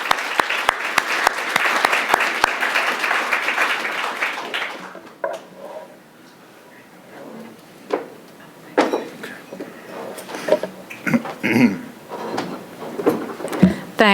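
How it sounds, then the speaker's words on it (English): An audience at a September 11th remembrance symposium applauds the event's sponsors, with dense clapping for about five seconds that thins into scattered claps and faint room noise. "Let's give them all a round of applause."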